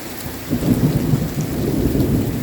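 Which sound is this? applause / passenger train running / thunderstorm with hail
thunderstorm with hail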